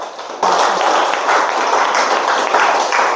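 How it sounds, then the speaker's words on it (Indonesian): A class breaks into applause after a presentation, a dense wash of clapping that starts abruptly and continues evenly, loud and close throughout. "beri tepuk tangan dulu"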